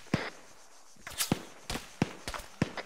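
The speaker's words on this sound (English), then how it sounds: "We're taking fire from the south?" Gunfire in the military shooter Arma 3 during an island assault: scattered sharp cracks, roughly five or six separate shots spaced irregularly, moderately close, with no talking.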